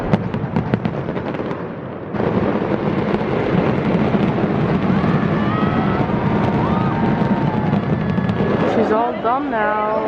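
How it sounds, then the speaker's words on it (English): Fireworks crackle and boom continuously in the distance in Valencia, Spain, a dense rumbling barrage with scattered pops and whistles, while people talk nearby. "it's just the fireworks in the back."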